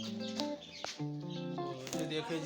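Chickens cluck and squawk close up, several overlapping calls in quick succession, with a faint flap of wings.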